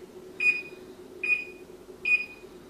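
A kitchen timer beeps three times in an even rhythm, each short bright tone spaced about eight tenths of a second apart, clear and close over a low steady hum as pizza bakes.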